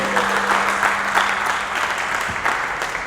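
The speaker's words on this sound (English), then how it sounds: "So give a round of applause to these guys for even doing this event." Crowd at a boxing press conference claps steadily in a continuous, fairly loud burst of applause with a few louder individual claps standing out.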